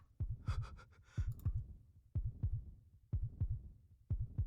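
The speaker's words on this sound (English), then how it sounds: "His heartbeat skyrocketed" A game heartbeat effect from Root Double: loud, close double thumps in a steady pounding rhythm, roughly one beat pair per second, with a brief rustling swish near the start and no talk.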